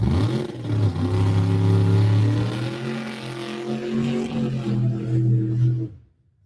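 Drag racing cars, a supercharged Pro Charger big block in one lane and turbocharged engines in the other, roar loudly with strong low harmonic engine tones that hold steady, then cut off abruptly near the end.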